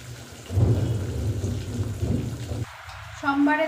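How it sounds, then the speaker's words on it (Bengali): Low rolling thunder rumbles through a rainstorm outside a kitchen where paneer is frying in hot oil, swelling twice and then giving way to a brief pause and a voice at the end. "কেমন মেঘ ডাকছে দেখেছো?"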